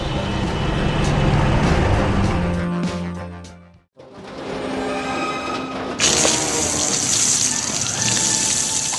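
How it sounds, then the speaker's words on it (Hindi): A fire truck sprays jets of water onto a road in a cartoon monster-truck setting, a steady loud hiss and patter of water that briefly drops away, then returns brighter and harsher. "दमकल गाड़ी पानी की बौछारों से सड़क को साफ कर देती है।"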